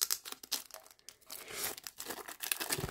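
A foil pack of Upper Deck Trilogy trading cards is torn open by hand, with close, quick bursts of crinkling and ripping wrapper over about three seconds and no voices.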